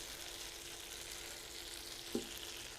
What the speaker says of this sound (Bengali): এটা ভাজার সময় একটু সাবধানে ভাজতে হয়,